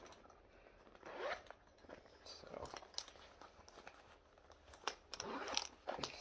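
A zipper on a Marc Jacobs bag with some wear is worked back and forth in several rasping pulls, close and fairly quiet.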